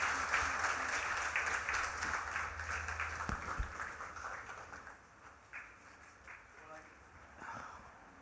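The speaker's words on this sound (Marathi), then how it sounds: "पुन्हा एकदा जोरदार टाळ्या सरांसाठी झाल्या पाहिजे." Audience applause at a Loksatta literary event honouring a speaker, dense clapping that is loud at first and then gradually thins and fades over several seconds.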